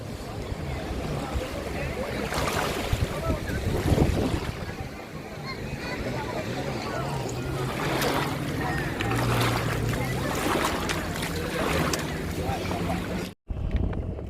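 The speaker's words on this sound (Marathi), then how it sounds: "आता मी आणि तेजू आम्ही सेलिंग बोट मध्ये बसलेलो आहोत" A sailing boat moving across open water, with steady rushing wind and water washing against the hull throughout, and a voice talking intermittently over it.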